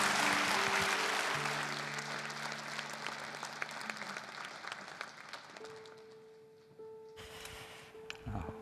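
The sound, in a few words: applause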